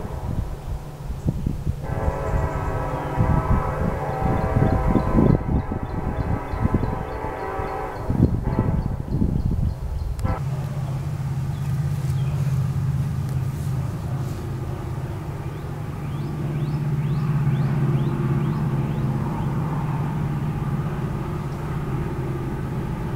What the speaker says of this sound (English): Seven 34, loaded Scherer coal train.